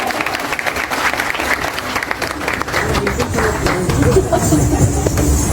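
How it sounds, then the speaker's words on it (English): Applause from an audience at a school prize distribution ceremony, a loud, sustained wash of clapping with crowd murmur underneath that swells slightly toward the end. "Everyone, please give them a big round of applause."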